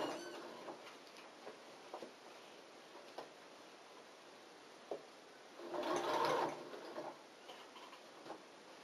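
A sewing machine stitches a hat crown to its brim, mostly as soft scattered ticks and clicks with one short, fuller run of stitching partway through, quiet and close.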